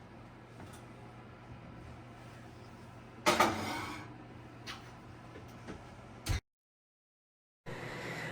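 A pot of homemade baked beans slid back into the oven: a sharp metallic clank of cookware against the rack, a softer knock, then a clunk as the oven door shuts, over a steady low kitchen hum.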